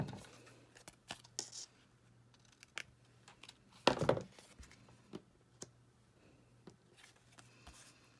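Scissors trimming excess paper from a page, a series of faint, quick snips and rustles close by, with one louder crinkling burst midway over a low steady hum.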